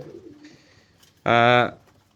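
Pigeons of a high-quality breed coo at a farm, a faint low call followed by one loud, rich, close burst of cooing lasting about half a second.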